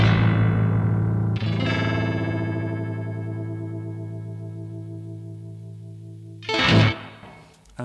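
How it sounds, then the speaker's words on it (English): Black Sun RotoPhaser analog rotary-speaker pedal on a sustained guitar chord, the swirling warble slowing as the rotor speed ramps down and the chord fades, followed by a brief strummed burst near the end. "And then when you go from one speed to the other, it ramps down."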